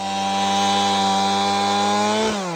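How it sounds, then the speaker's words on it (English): An Echo CS590 chainsaw runs loudly at a steady, droning pitch while felling trees, then its engine tone drops sharply as the throttle eases off near the end. "I've got my Echo chainsaw, my CS590, which I love that saw"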